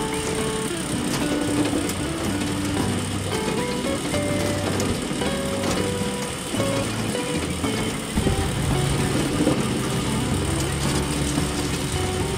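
A red tractor pulls a big lawnmower across grass, its engine running in a steady, continuous drone throughout with no break, fairly close and loud, with no voices over it.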